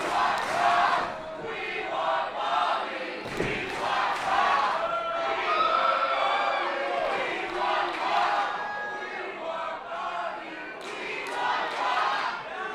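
A wrestling crowd at a WPW Nuclear Heat tag match cheers and yells without pause, a dense roar of many voices with shouts and chants rising over it throughout.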